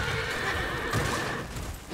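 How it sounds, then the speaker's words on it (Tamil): A horse neighs loudly in Black Myth: Wukong, a shrill whinny carried over steady game ambience and low rumbling, with faint hoof clip-clop beneath, lasting nearly two seconds. "குதிரை"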